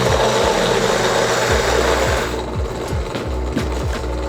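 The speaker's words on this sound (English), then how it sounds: "And now we need to start the grinder." An electric coffee grinder grinds beans for AeroPress brewing with a loud, steady motor whine and rapid rhythmic chatter. The pitch eases slightly partway through as the beans run down, and no one speaks over it.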